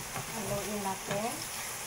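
Century tuna and egg get stirred in a frying pan, a short soft sizzle with light scraping strokes, close and fairly quiet, with a faint voice behind it.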